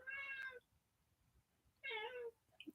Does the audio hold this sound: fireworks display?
no